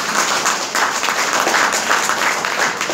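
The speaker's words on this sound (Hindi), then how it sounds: "एक बार जबरदस्त ताली बजा दीजिए सर।" Audience applause at a motivational training program in India, continuous loud dense clapping sustained throughout, with a faint voice underneath.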